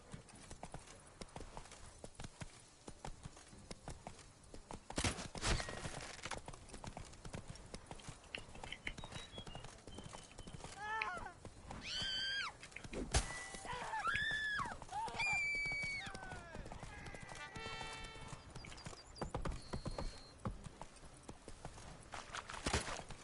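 Hooves of the horse Roach in The Witcher 3 clip-clop in a steady walking rhythm, faint and continuous throughout. Snatches of voices and other game sounds come and go over the hoofbeats.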